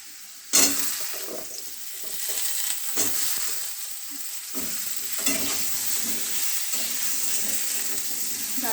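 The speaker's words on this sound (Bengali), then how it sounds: "ডাঁটাগুলো একটু সামান্য করে ভাজা হোক" Vegetable stalks hit a hot pan with a sharp burst, then fry with a continuous crackling sizzle and repeated stirring scrapes of a spatula, close and fairly loud, with no voices.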